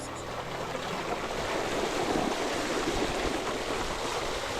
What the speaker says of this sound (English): now we gotta go through this river, which is sketchy